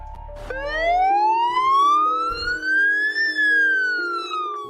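A loud ambulance siren at a hospital sweeps upward in a long rising wail and then slowly falls, close by, with a rumbling engine at the start.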